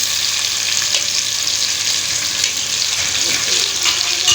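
Chopped tomatoes with ginger garlic paste fry loudly in a pan, a dense continuous close sizzle with faint stirring scrapes.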